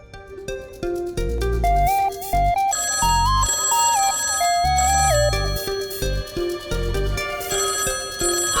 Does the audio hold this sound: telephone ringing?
yes